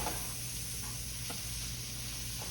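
Bone-in chuck steak sautéing in a pan, giving a steady, close sizzle with faint stirring scrapes throughout, ahead of braising in the oven.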